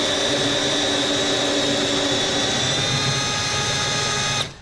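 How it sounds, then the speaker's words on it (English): A power drill bores a small bit through to run armoured electrical wire, a loud steady whine held for several seconds before cutting off abruptly. "See, now that this little drill thing's punched through, I gotta push now a little bit."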